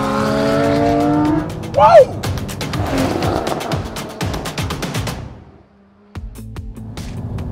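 A modified water-cooled Porsche GT4 with a mid-mounted engine accelerates hard, its engine note climbing loudly with a brief tire squeal before fading away. A voice exclaims over it.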